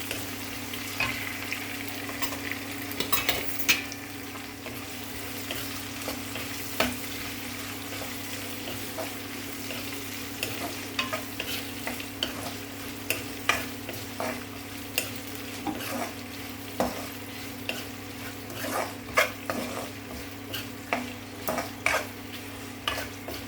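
Tempering spices with asafoetida frying in hot oil for a prawn and ridge gourd curry, a steady sizzle under a faint constant hum, punctuated by repeated sharp spatula and pan clicks.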